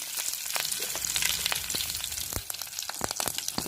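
Steady, dense sizzling of curry leaves frying in hot oil with popping mustard seeds, with scattered crackles and spits throughout.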